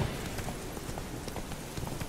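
Horse hooves clip-clopping in a steady galloping rhythm as a rider travels in The Witcher 3: Wild Hunt, heard over dense game ambience and background sound.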